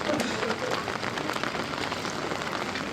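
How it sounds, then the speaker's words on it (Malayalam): Rain falls steadily at a temple in Nepal, an even, dense patter close around with no break. "എടി മഴയല്ലേ, നല്ല മഴയല്ലേ, ചീഞ്ഞ മഴ ഇല്ലേ."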